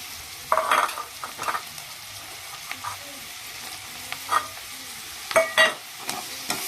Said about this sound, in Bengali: তো প্রথমে আমি পেঁয়াজটাকে সুন্দর করে আগে ভেজে নেব।